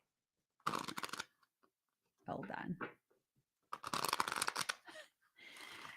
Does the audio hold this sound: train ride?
no